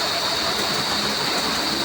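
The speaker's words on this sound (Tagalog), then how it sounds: "lumakasrap ang ulan patuloy ang paglakas ng ulan" Heavy, steady rain pours down in a continuous dense hiss with no breaks, close and loud throughout.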